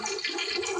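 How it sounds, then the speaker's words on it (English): A toilet flushes in a home bathroom, a brief continuous rush of water filling the whole moment at moderate level, with no voices. "flush the toilet."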